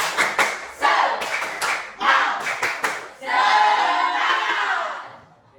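A school class performs a rhythmic spirit clap, with sharp patterned bursts of hand claps in quick groups, followed by a sustained cheer of children's voices.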